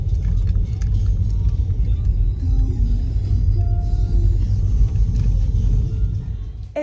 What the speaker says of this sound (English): I'm just in my car heading off to the baker's to get some breakfast